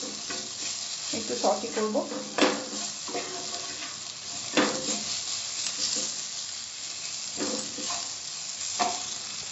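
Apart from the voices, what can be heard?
stirring dal tadka in a pan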